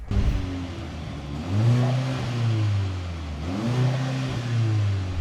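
A Mercedes C63 AMG with a two-litre four-cylinder engine revs twice, each rise a smooth climbing whine that drops back to idle, close and clear with nobody speaking.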